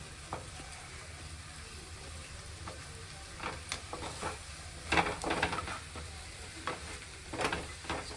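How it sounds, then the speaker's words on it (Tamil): Potatoes and eggplant sautéing in a pan give a steady close sizzle, broken by occasional scraping and clinks from a stirring utensil against the pan. "உருளைக்கிழங்கு வதங்கட்டும் ஒரு பத்து நிமிஷம் வதங்குச்சுன்னா போதும்"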